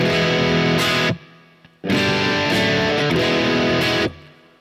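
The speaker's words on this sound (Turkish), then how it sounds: "Örneğin ben bu gitar sound'unu çok beğendim ama ayrıca bir reverb eklemek istiyorum." An electric guitar fed through a Lexicon reverb simulation on a Focusrite Scarlett Solo interface plays two loud, distorted strummed passages, each cut off sharply so the reverb tail rings out and decays.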